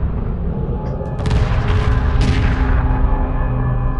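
Space battle weapons fire in Homeworld Remastered, a loud, dense wash of rumbling energy blasts and booms that swells after the first second and stays thick and continuous to the end.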